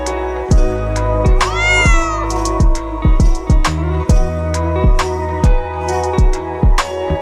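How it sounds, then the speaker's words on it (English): A cat meows repeatedly, clear and close, with one long rising, wavering cry among the shorter calls, set over a regular thumping beat that runs throughout. "C for cat."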